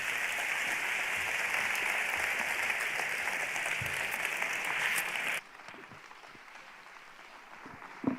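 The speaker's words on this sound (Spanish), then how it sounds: "vamos a darle un fuerte aplauso a Ágata Ruiz de la Prada" Applause from an auditorium audience greeting fashion designer Agatha Ruiz de la Prada, a dense steady wash of clapping that cuts off abruptly partway through, leaving quiet room tone with faint stray sounds.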